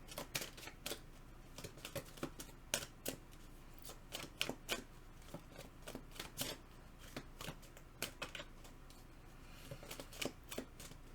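Tarot cards are shuffled up close, giving quiet, crisp bursts of riffling and snapping that come in irregular clusters and short pauses, with no talking.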